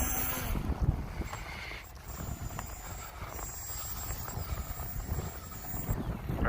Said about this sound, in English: Quite a bit of wind today.